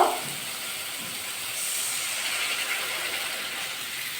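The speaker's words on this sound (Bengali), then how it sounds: "এবার জল অ্যাড করবো" Water poured into hot oily spiced masala for fish kofta sets off a steady, even sizzling hiss that continues for several seconds after a brief louder splash at the start.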